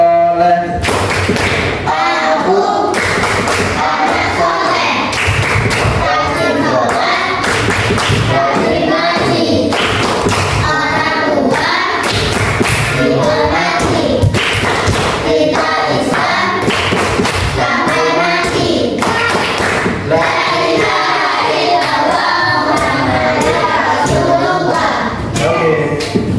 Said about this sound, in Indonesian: Kita tepuk anak soleh untuk menambah semangat kita di pagi hari ini.